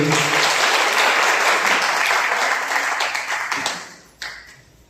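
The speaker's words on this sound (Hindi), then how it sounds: "प्रशांत सर के लिए जोरदार ताली होना चाहिए" An audience gives a burst of dense clapping at an indoor class, loud and sustained before thinning out and ending with a last few scattered claps.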